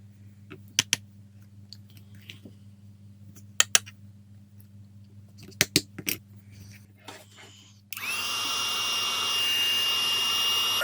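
A heat gun switches on and blows a steady, loud rushing hum to melt embossing powder on a stamped shamrock, after several sharp taps and clicks on the craft table.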